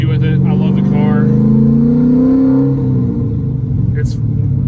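A new Chevrolet Corvette Z06 rumbles loudly while driving, a deep steady engine drone heard from inside the car with a slight rise in pitch, as someone talks over it.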